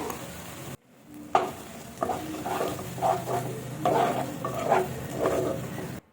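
Ginger, garlic and green and dried chili paste frying with tomato in a pan, a steady close sizzle with repeated scraping stirs, after a brief silent gap near the start.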